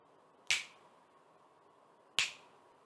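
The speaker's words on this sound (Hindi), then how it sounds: "मैं अपनी चुटकी को 2 बार बजाऊंगा" Two sharp finger snaps ring out alone in a quiet room, roughly one and a half seconds apart, each crisp and brief with a faint decay.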